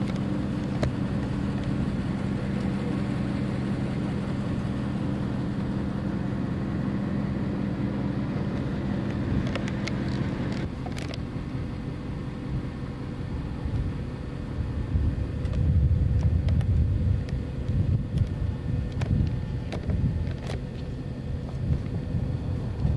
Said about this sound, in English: I love the sound of the car in the background.